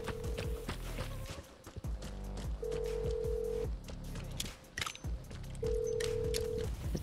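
A telephone in the video game Vigor gives a repeating electronic ringing tone, three steady beeps spaced a few seconds apart, with clattering game noises and footsteps around them.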